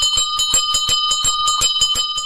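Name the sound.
ice cream vendor ringing a bell, cartoon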